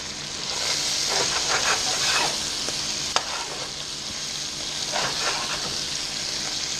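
Scraping and stirring in a pot as browned bits are scrubbed loose from the bottom while cooking Southern-style quail, a steady scratchy rasp over a soft sizzle that runs the whole time, with one sharp clink partway through.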